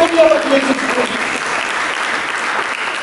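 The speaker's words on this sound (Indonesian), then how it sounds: "Mari kita berikan tepuk tangan" A church congregation applauding during a sermon, steady dense clapping with a voice speaking over the start.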